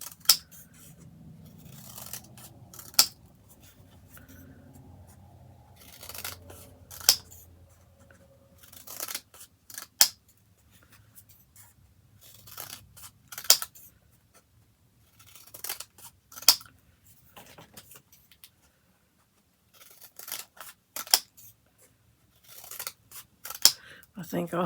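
Scissors snipping strips of paper during a crafting session, a string of sharp, close clicks and cuts repeating irregularly, with quiet rustling of paper between the snips and brief talk now and then.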